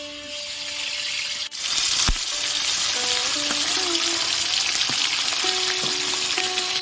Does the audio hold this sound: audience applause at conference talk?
no